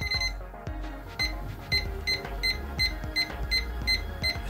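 Repeated electronic beeps from an electrical tester touched to a live phase wire, in a steady rhythm, fairly close, with a busy background hum and clicks between them.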